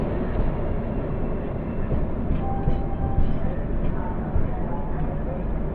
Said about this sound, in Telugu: ప్లాట్ఫామ్ నెంబర్ 3 మీద భాగ్యనగర్ ఎక్స్ప్రెస్ వచ్చింది అన్నారా.